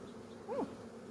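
Honeybees buzz around an inner-feeder in a hive during a nectar dearth, a soft steady drone with a brief louder swell as a bee passes close.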